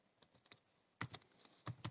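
Keys tapped on a computer keyboard while entering Python pandas code, with soft, sparse clicks at first, then a louder burst of quick, irregular keystrokes, close and alone.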